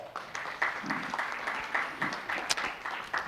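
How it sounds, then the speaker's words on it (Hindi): Audience clapping at a live talk event, a steady burst of applause from a roomful of people, fairly close and continuous throughout. "जोरदार तालियां।"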